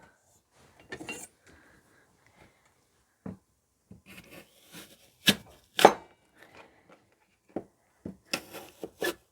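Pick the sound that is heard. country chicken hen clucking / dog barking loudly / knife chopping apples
knife chopping apples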